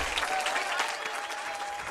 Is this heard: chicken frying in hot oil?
no